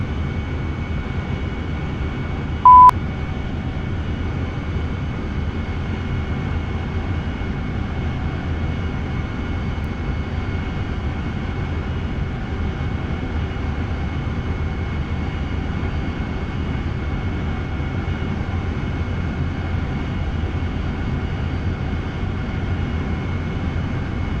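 A steady, even jet engine drone from an AV-8B Harrier in level flight in the DCS flight simulator, a continuous low rumble with a faint high whine, unchanging throughout, with one brief click early on and no talk.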